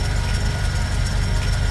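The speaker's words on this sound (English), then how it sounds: "you can actually hear this belt noise that I'm on about. It's like a high-pitched squeal" A Vauxhall VXR car engine with a worn drive belt, idling steadily close by, its belt letting out a continuous high-pitched squeal over a low, even engine rumble.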